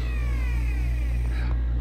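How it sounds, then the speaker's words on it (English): A cat in a video game gives a short meow over a steady, loud background hum of game music and sound effects. "The cat's right here."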